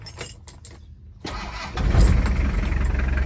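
A Tiger dump truck engine cranks and fires after a brief pause, then rumbles into a loud, steady diesel idle close by.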